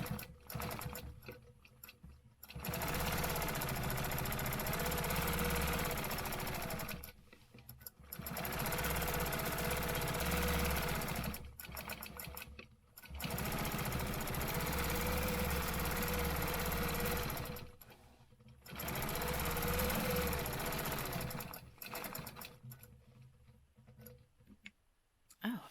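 A sewing machine stitching horizontal quilting lines on a stencilled quilt, running in long steady bursts of several seconds each, separated by brief pauses.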